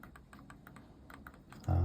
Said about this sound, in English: It's got the silent touch, so you don't really hear them clicking. You can hear that, it's just a gentle little thud